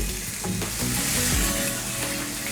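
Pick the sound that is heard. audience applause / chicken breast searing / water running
chicken breast searing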